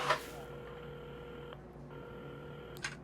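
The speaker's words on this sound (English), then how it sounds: "Carmen had started dialing the phone." Telephone being dialed in the game Assemble With Care: a series of steady electronic dial tones, a long tone breaking off briefly and resuming, with a small click at the start and another near the end, quiet and clean.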